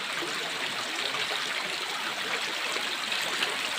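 Steady rushing flow of yellowish water through an underground river inside a slippery cave, a continuous dense wash of noise close by, with no voices.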